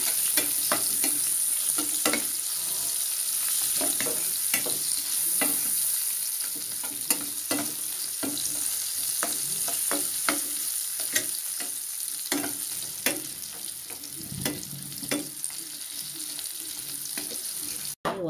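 Sweet potato pieces seasoned with turmeric and salt fry lightly in a pan, giving a steady close sizzle broken by frequent stirring scrapes and clacks throughout, with no talking.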